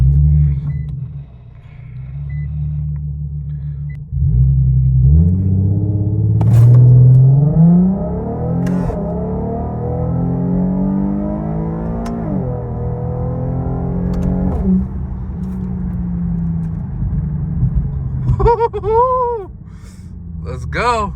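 An Infiniti Q50 fitted with Vibrant resonators, heard from inside the cabin: the engine starts, idles, then revs hard through rising and falling pulls, loud and close, with some voices in the cabin.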